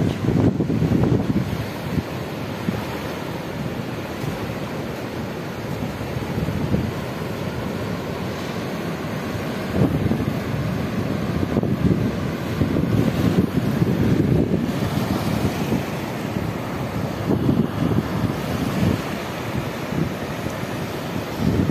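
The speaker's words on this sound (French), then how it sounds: "il y a tous les embruns qui arrivent avec le vent, là c'est fantastique" Gusty wind roars over crashing surf on the Quiberon coast in Brittany, France, blowing sea spray, with surges of spray and waves swelling and fading throughout, loud and continuous with no voices.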